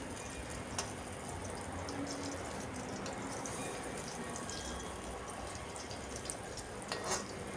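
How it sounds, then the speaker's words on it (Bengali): Raw banana and egg koftas fry in a little oil, a faint, steady crackling sizzle with occasional soft ticks, alone and without talk. "আমি এখানে কম তেল দিয়ে ভাজছি"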